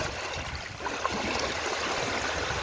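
Water rushing steadily at Dantiwada dam, a continuous broad roar of flow and splashing, close and unbroken without any voices.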